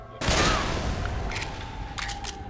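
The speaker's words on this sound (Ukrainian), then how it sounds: "Да, вибухнула ось ця бочка." An explosive barrel blows up in the co-op zombie shooter Left 4 Dead 2, a sudden loud boom at the start that rolls into a long rumbling tail, followed by scattered gunfire bursts further into the clip.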